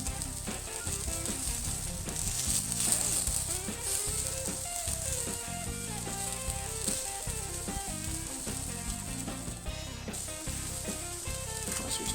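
Onions sizzling on a hot griddle while smash burgers cook, a steady dense crackle and hiss that stays loud and even throughout, with no one talking.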